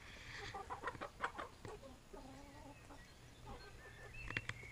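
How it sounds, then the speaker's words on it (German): Backyard chickens in a run, several hens clucking in short irregular bursts, near and fairly quiet with outdoor background. "Heute machen wir da ein kleines Update von den Hühnern."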